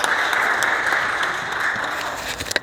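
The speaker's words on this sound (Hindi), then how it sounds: "जोरदार तालियां भाई, शाबाश" Loud applause from a crowd at a workplace Safety Day program, a dense, steady sound of many hands clapping close by that thins into a few scattered claps at the end.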